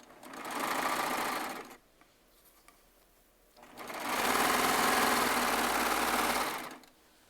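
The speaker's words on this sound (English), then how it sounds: "I am sewing charm squares together" A Baby Lock serger sewing charm squares together whirs at high speed in two steady bursts, about two and three seconds long, with a quiet pause between them.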